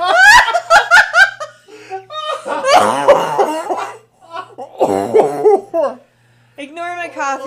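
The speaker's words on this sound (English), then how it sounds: "Ignore my coughing." A person coughs in loud, close bursts, tangled with laughter and snickering, in a few choppy outbursts separated by short pauses.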